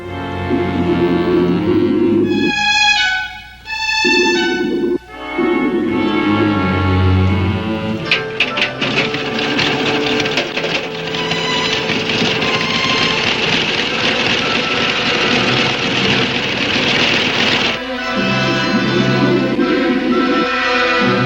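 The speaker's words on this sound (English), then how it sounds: "the compressor, used to fill scuba tanks with life-giving air" A compressor filling scuba tanks runs loud and steady, a dense mechanical rattle and hum with brief dips and a rhythmic stutter early on.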